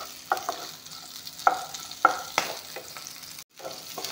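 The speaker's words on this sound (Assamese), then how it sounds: "পিঁয়াজ জলকীয়াখিনি অলপমান ভাজি ল'ম" Onions and chillies frying in a pan, with sharp scraping stirs landing every second or so over a soft, steady sizzle, close by and without any talk.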